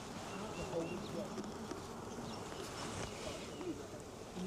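Honey bees buzz around an open backyard hive, a dense steady hum with individual bees droning nearer and farther, filling the whole scene without speech.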